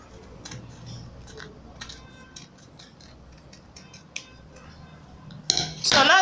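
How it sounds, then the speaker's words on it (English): Scissors cut out a paper skirt pattern in a series of quiet, crisp snips and ticks, ending in a louder burst of paper rustling close by. "and we'll now cut it out."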